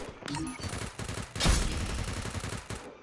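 Rapid MP5 gunfire in the Free Fire mobile game, a dense burst of loud, overlapping shots that swells and fades over a few seconds, with bright game effects mixed in.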